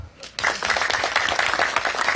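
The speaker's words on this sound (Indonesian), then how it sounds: "Tepuk tangan." An audience bursts into dense, sustained applause at a village gathering for a Kodim 0906 military district competition; after a brief quieter moment the clapping swells and holds steady and loud to the end.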